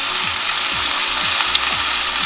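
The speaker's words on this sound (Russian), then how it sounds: "Вкладываем на горячую сковородку растительным маслом лук и морковку. И пассируем." Onion and carrot sauté in vegetable oil on a hot frying pan, a loud, dense, continuous sizzle with faint rhythmic scraping as the vegetables are stirred.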